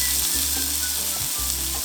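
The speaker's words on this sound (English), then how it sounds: "we'll just kiss it on the skillet on the fat side, render some of that fat out" A pork chop sears fat side down in a hot skillet, producing a loud, continuous close sizzle with steady frying crackle and no voices.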